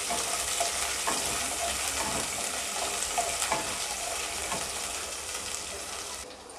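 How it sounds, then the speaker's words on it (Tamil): Sliced onions sizzle steadily in hot oil for Madras vada curry, with occasional spoon scrapes and stirring strokes against the pan, close and continuous with no talking. "நல்லா ஃப்ரை, கோல்டன் ஃப்ரை வர வரைக்கும் நல்லா ஃப்ரை பண்ணி விட்டுக்கலாம்."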